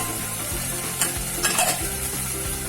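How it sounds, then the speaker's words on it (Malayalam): Onion, green chilli and curry leaves sauté in hot oil, a steady close sizzle broken by scraping stirs of a spoon across the pan, with no voices. "എല്ലാം നമ്മൾ നന്നായി ഇളക്കി ശരിക്കൊന്ന് വഴന്നു വരണം"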